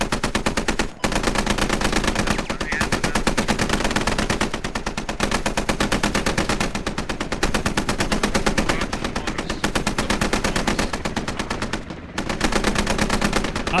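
Machine gun firing long, sustained bursts at a bunker in the video game Squad, loud and close with rapid unbroken rhythm and only brief gaps between bursts.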